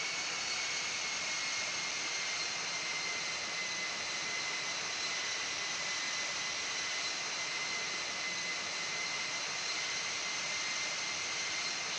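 A Qantas Boeing 747 jet taking off in the Infinite Flight Simulator game: a steady, loud broadband engine roar with a high whine held constant throughout, no voices.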